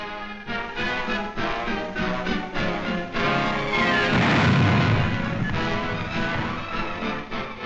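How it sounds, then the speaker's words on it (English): Coastal artillery guns at Dover firing shells across the Channel in wartime, heard as loud, heavy booms and rumbling blasts in an old newsreel soundtrack, with a long swelling roar midway. "The great shells from Dover land with pinpoint accuracy on enemy strong points outside the town."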